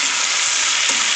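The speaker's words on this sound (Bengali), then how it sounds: "আলু আর পেঁয়াজ কলি ভাজা হচ্ছে গিয়ে" Potatoes and onion stalks frying in oil, a loud, dense, continuous sizzle close to the pan with a faint stir sound partway through.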